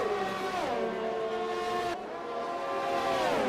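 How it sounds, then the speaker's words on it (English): A race car leaves the pits in a sim racing game at Mexico, its engine whining loud and close with no talk, revs climbing, dropping at a shift, then building again. "That's just Freeman's car coming out the pits."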